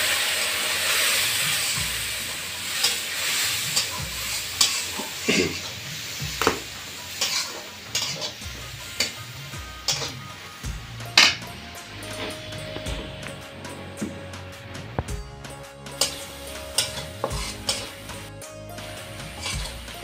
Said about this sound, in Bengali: এভাবে আমি মশলাও কষিয়ে নিয়েছি।